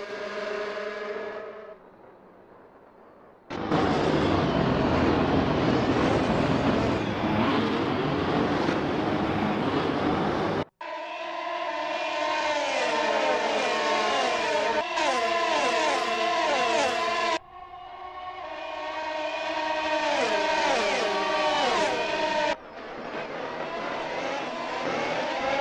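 Identical-engine 2017 Formula 1 cars roar away from the race start at Monza in Assetto Corsa. A loud, continuous, full-bodied engine howl rises and falls in pitch sweeps as the cars shift through gears, with brief cuts between shots.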